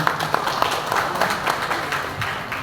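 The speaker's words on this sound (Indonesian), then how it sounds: "Tepuk tangan." Brief burst of audience applause at a political gathering and fast-breaking event with a regent and local PDI Perjuangan party branches in Kediri, a dense patter of many hands lasting a couple of seconds.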